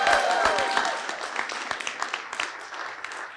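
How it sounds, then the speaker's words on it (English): An audience at a nature center re-opening breaks into applause with some yelling, loud at first and then thinning into scattered individual claps. "can everyone here just give a big yell and a big round of applause?"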